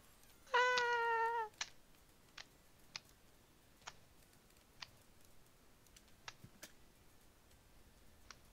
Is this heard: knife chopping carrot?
no